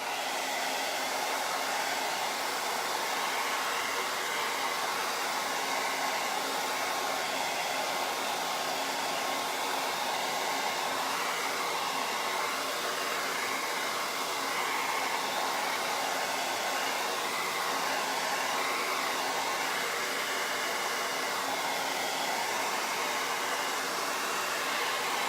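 Hair dryer drying paint on a mason jar, a loud, steady whooshing fan-and-motor roar running continuously without a break, with no one talking.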